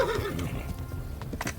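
A horse in the medieval video game Kingdom Come: Deliverance whinnies loudly and close, with a shaky falling neigh, followed by a few hoof clops.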